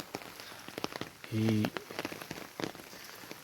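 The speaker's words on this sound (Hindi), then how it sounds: "इस टाइम जो है हल्की हल्की बारिश लगी हुई है" Light rain falls outdoors in rainy-season Azad Kashmir, with dense irregular pattering drops on nearby surfaces continuing throughout, broken by a brief low tonal hum and a short spoken word.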